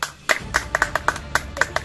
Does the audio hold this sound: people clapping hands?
yes